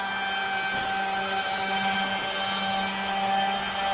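Edge bander motors run at a steady drone with a tonal hum while banding is trimmed, constant and even throughout with no talk.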